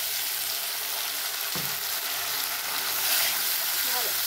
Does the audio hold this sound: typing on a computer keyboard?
no